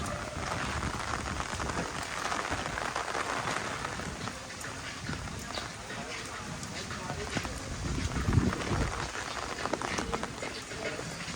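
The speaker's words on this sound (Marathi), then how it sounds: "पाऊस कमी झाला." Rain patters steadily on a surface at the Global Vipassana Pagoda in Borivali, Mumbai, a dense hiss with scattered drops, while people speak nearby.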